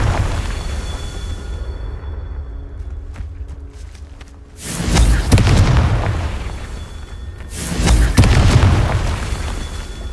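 Two booming blasts from the Confringo fire spell in Hogwarts Legacy, each a loud deep burst with a rumbling tail, separated by a few seconds of quieter game ambience.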